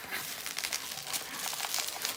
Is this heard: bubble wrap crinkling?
yes